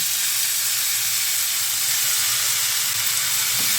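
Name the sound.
spinach added to hot oil, sizzling in the pan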